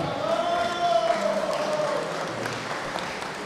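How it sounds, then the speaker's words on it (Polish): Steady audience applause from a crowd at a powerlifting cup competition, a dense wash of clapping that fades slightly toward the end. "Wielkie brawa."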